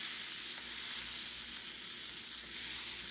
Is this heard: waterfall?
no